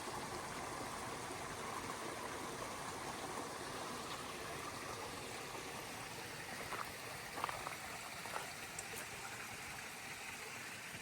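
Water flowing across a hiking trail on the Appalachian Trail, a steady broadband rush that holds at an even level throughout, with a few faint ticks and knocks near the end and no talking.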